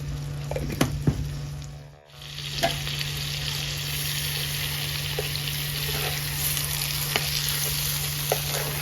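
Two tablespoons of minced garlic sizzle in a frying pan used for BBQ pork chops, a loud, steady, close hiss with a few soft stirring clicks and a brief dip early on.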